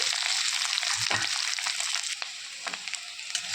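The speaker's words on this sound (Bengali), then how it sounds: "এখন একটু ভেজে নেবো লাল লাল করে" Potatoes sizzle and crackle steadily as they fry in hot oil until browned, with occasional soft clinks of a utensil stirring the pan; no one speaks.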